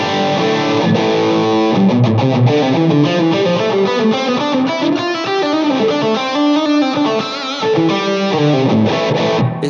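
Heavily distorted electric guitar through a Super Distortion pickup plays a continuous melodic line with sustained notes and slides, loud and up front with no voices.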